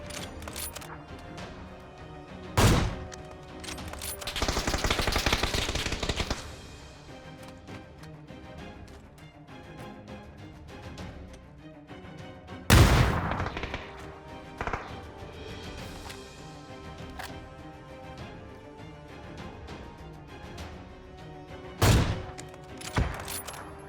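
Sniper rifle shots in PUBG ring out as sharp, loud single cracks spaced several seconds apart, with a short burst of noisy clatter in between and quiet game ambience throughout.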